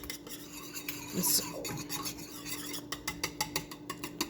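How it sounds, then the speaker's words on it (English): Chocolate sauce of cocoa powder and sugar being stirred in a pot over medium-high heat, a close rasping scrape that turns into a rapid, steady series of strokes toward the end; a brief spoken word breaks in early. "they have to stir and stir and stir"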